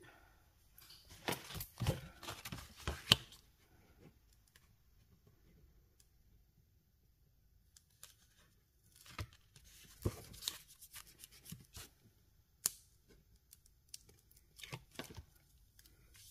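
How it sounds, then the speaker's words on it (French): Scissors trimming excess paper while making a card pocket, faint scattered snips and rustles in uneven bursts separated by quiet pauses. "Je viens couper le surplus"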